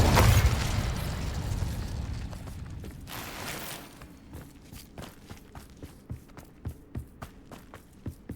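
Hogwarts Legacy fire spell Incendio cast in combat: a loud burst and roaring whoosh of flame in the first seconds, fading into a series of sharp, evenly spaced impacts and thuds.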